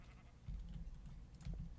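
Sheep bleating in a video game: two faint, low bleats, quiet and close together.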